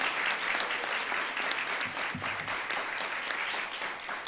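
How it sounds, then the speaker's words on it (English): An audience at a school board of education meeting applauds its scholars with steady, moderately loud clapping from many hands that holds throughout. "Let's give our scholars a wonderful round of applause"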